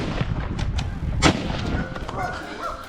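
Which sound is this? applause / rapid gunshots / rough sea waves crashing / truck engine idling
rapid gunshots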